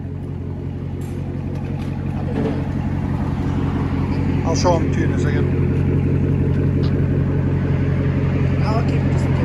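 A 2017 Chevy Corvette Z/51 Stingray with an LT1 V8 and straight-piped dual exhaust idles with a deep, steady rumble close by, while people talk over it.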